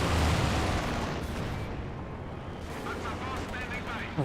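Aircraft strafing run by airborne guards in the wartime strategy game Company of Heroes 2, a dense roar of rapid gunfire and explosions rumbling continuously, with a voice talking over it.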